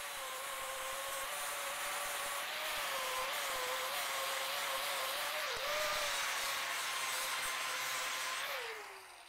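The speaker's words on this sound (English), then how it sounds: "My tool of choice, angle grinder with a flap wheel." An angle grinder fitted with a 36-grit flap wheel grinds on a transmission for an MR2 SW20, giving a loud, continuous high whine with an abrasive hiss that runs steadily for about nine seconds, then spins down.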